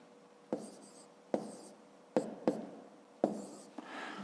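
Pen writing on paper while multiplying numbers in columns for a fifth-grade maths exercise: close, dry scratchy strokes in short bursts with brief pauses between, six or so distinct marks.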